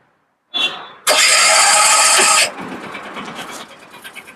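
A brand-new autorickshaw engine cranking and starting: a brief starter whine, then a loud burst as the engine catches, settling into a rougher, quieter idle, close by.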